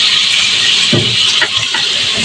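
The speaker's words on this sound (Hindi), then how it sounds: "और ये 1 कटोरी मैंने पानी लिया।" A bowl of water poured into a hot pan of chicken, a brief splash and gush rising out of a loud steady sizzle, then the sizzling continues.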